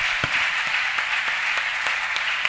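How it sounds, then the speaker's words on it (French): A church congregation at a Sunday service claps and applauds in praise, a dense, steady patter of many hands heard at moderate distance with no voices over it. "Donne un banc d'acclamation au Seigneur."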